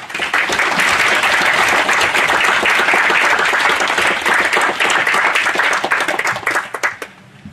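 An audience at a museum lecture welcomes speaker Murray Zimiles with sustained, dense applause, many hands clapping steadily at full strength before tapering off quickly at the end.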